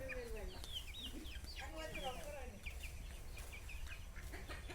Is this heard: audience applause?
no